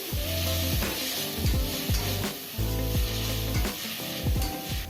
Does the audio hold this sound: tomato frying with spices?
yes